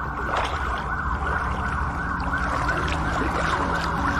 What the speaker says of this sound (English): Police sirens grew louder in the distance.